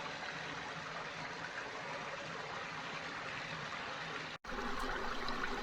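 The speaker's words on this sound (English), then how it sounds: "You come out right above the waterfalls." Waterfall at Carter Caves State Park, Kentucky, heard as a steady, faint broadband rush of flowing water with no voices, briefly cut off near the end.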